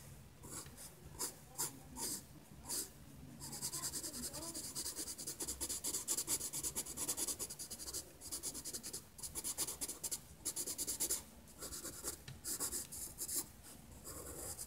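Pencil scratches and shades across paper while drawing, close and quiet, in irregular bursts of rapid strokes separated by brief pauses.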